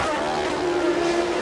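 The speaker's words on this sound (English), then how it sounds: "You can hear him on that rev limiter" A 1995 Formula 1 car engine bounces off the rev limiter, a loud, steady buzzing whine with a stuttering edge, heard from a broadcast during the Pacific Grand Prix.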